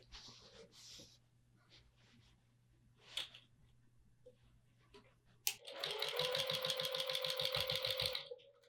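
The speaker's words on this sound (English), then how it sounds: "we're gonna go ahead and top stitch all around the top edges" A sewing machine top stitches along the top edges of a boxy drawstring bag sewn from jelly roll strips. It runs in one close, rapid, steady burst of stitching after a quiet stretch with light handling sounds.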